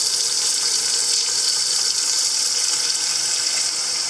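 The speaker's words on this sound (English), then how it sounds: "Here's what my water pump sounds like." An off-grid house water pump runs as a steady, even hiss of rushing water, constant and close throughout, with no voices.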